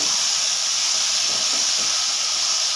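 Brinjal, tomato, green chilli and onion sauté in a pan, giving a constant broad steamy hiss that stays even and close with no breaks or talk.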